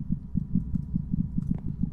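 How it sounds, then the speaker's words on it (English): Rapid, steady heartbeat pulses from a Minecraft horror map set in a dark orphanage, low thumping double beats repeating quickly and evenly at close range with nothing else over them. "It's a heartbeat."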